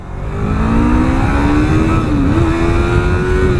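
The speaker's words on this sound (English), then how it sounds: "Engine sounds fantastic." A 2017 Yamaha MT-03 motorcycle engine revs up and holds a high, buzzing note, climbing in pitch with a brief dip, loud and close.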